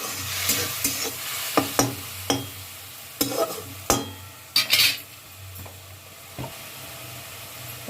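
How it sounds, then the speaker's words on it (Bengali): Tomato masala frying in a pan for a dhaba-style egg and potato curry, sizzling loudly as water is added, with repeated spoon scrapes and clanks against the pot over a steady hiss. "এবার একটু জল দিয়ে দিলাম।"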